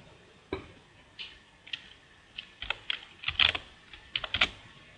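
Light, irregular clicking of computer keys, a few scattered taps building to quicker bursts of typing, close and fairly quiet with no voice over it.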